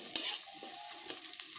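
Fried potatoes and mung dal being stirred in a pan, a brief soft scraping and sizzling with a couple of light utensil knocks, close and quiet, no voices.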